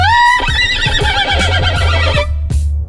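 A violin imitates a horse's whinny, bowing a loud, wavering neigh that starts high and quivers downward, with percussive clip-clop-like taps underneath, ending in a short final squeal.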